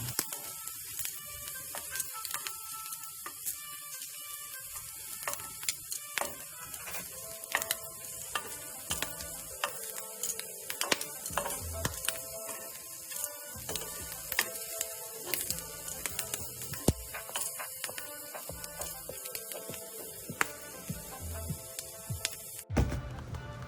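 Shrimp sizzling in a hot pan as each one is flipped over, a steady crackling fry broken by frequent small clicks and scrapes of the turning, close and continuous with no talk.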